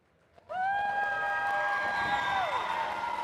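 Robotics competition audience bursts into loud, high-pitched cheering and whooping for the Red Alliance, rising suddenly and holding for about two seconds before tapering off.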